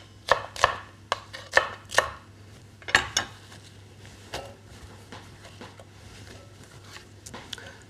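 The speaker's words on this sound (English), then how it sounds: "2 peeled onions, cut those into thick wedges or slices." A knife cutting peeled onions into thick wedges on a board, with a quick run of sharp chops at first, then a pause and softer, sparser cuts and handling noises, close and with no speech.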